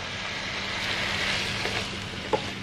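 Tomatoes frying in olive oil with scallions in a pan give a continuous, moderately loud sizzle and hiss, a few soft clicks and one brief knock of a utensil near the end; no one talks.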